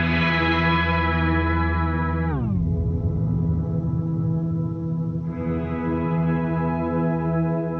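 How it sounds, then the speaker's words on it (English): Walrus Audio Sloer reverb pedal set with its sample-rate stretch slider all the way down, giving a dark, grainy lo-fi wash: a sustained harmonic chord drops in pitch, decays into a murky textured swell, then a bright layered chord returns. "I've slid that all the way down, which gives it this dark, grainy lo-fi sound."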